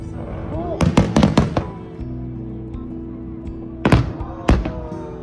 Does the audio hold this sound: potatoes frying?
no